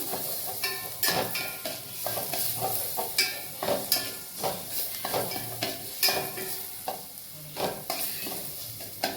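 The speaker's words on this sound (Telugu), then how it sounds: "ఇప్పుడు క్యారెట్, పచ్చిమిర్చి ఇవి కూడా బాగా ఫ్రై చేసేసుకున్నాం." Carrots and green chilies stir-fried in a pan for potato fried rice, a steady sizzle punctuated by repeated spatula scrapes and stirring strokes, close and continuous with no talk.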